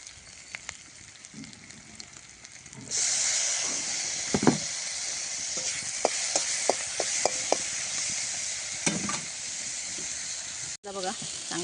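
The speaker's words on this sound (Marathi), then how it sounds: "लसूण, लसणाची पात, कांदा हे आपण आता परतून घेऊया।" Garlic, garlic greens and onion sautéing in a pan, a loud hissing sizzle that jumps up as the ingredients go in and continues with stirring clinks, while a person talks over it.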